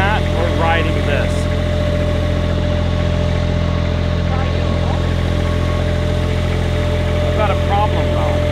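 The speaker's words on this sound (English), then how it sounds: "I think I'm gonna get the mower out and do a little bit of mow job." Riding lawn mower engine running steadily at idle, a constant low droning hum with vibration throughout, with faint intermittent voices or squeaks over it.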